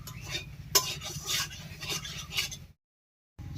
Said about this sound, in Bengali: সব কিছু দিয়ে অনবরত নাড়িয়ে যাচ্ছি